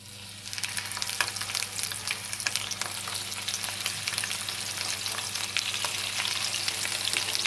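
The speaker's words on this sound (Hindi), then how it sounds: "अब ऑयल गरम हो गया, अब हम इसमें फ्राई करेंगे।" Masala-coated fish fries in hot oil in a frying pan, giving a steady, close crackling sizzle with dense spitting pops that hold an even loudness throughout, with no voices.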